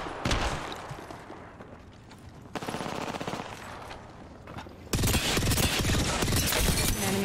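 Rapid automatic gunfire from an attacking enemy squad in a battle-royale shooter game, bursts of loud crackling shots that swell into a dense, sustained volley in the final seconds.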